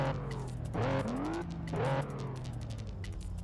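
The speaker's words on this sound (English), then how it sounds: "the Ascari KZ1 is sort of like their super powerful Ascari car" An Ascari KZ1 supercar races in Test Drive Unlimited on PS2, its engine rising in pitch through gear changes, dropping between shifts and climbing again, loud and close with a steady game roar underneath.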